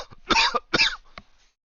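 A person coughs in two or three harsh, close bursts, with a fainter throat-clearing cough trailing after, alone without talk.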